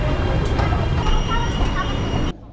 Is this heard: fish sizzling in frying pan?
no